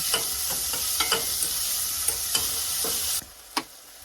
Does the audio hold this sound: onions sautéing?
yes